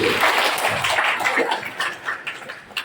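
A small gathering at a cooperative's election meeting claps in scattered, moderate applause that thins out toward the end, with a few louder individual claps.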